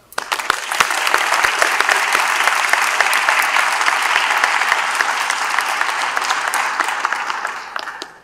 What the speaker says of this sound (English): I would just like to give them a round of applause